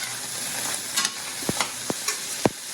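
Vegetables frying without oil in a very hot pan, a steady dry sizzle with scattered stirring scrapes and soft clicks as they are moved about, close and alone.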